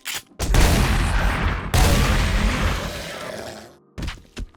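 An assault rifle fires in the video game 7 Days To Die, with two long, loud, dense bursts of rapid shots followed by a couple of short single cracks.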